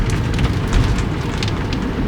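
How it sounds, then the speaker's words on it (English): Steady rain patters on the roof and body of a camper van touring through Slovenia, a constant close hiss of drops with faint road rumble beneath and no talk. "Kind of bother this rain actually, just cool it down maybe a little bit."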